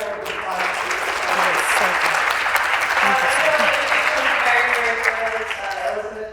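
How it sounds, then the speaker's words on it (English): An audience at a veteran and military community hiring event gives a round of applause, steady dense clapping sustained for several seconds before tapering slightly at the end. "Can we get a round of applause?"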